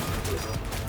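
A loud, dense burst of rapid gunfire in the video game Cyberpunk 2077, continuous throughout the short moment.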